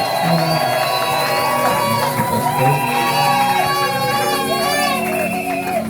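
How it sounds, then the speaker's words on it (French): Church congregation at a Pentecostal service acclaiming the Lord, a dense sustained wave of cheering, whoops and shouts with children's voices mixed in, loud and continuous throughout with no clear break. "Et nous acclamons le Seigneur"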